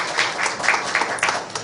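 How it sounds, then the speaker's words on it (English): Audience at a school board candidate forum applauds steadily, a dense wash of many hands clapping with a few louder bursts standing out, fairly close and continuous throughout. "Let's have a nice round of applause for them for being here."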